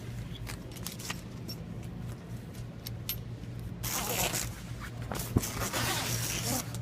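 A zipper on a Bennington QX pontoon boat's tower bimini is pulled along its track, with faint intermittent rasping that turns into a longer, louder zipping run midway through, quiet and close, with a brief click near the end.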